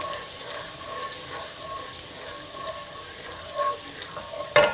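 Garlic with chili flakes sweats in a pan, a soft, steady sizzle with faint crackle and a few light clinks near the end.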